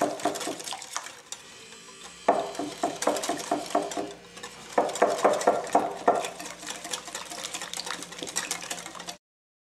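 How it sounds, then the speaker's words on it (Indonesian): Roti sobek bread dough being stirred in a bowl as flour is added bit by bit: steady rhythmic scraping and knocking strokes, close and fairly loud, pausing briefly before picking up again, with no talk. "kita akan masukkan tepungnya sedikit-sedikit, guys. Sambil terus diaduk"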